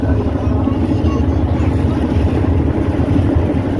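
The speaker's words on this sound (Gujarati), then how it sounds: "પાણીની સ્પીડ જોવો પાણી કેટલું ઉછળે છે" Motorboat cruising on the river at Kashi, a steady loud engine drone with rushing water and wind noise continuous throughout, close and unbroken.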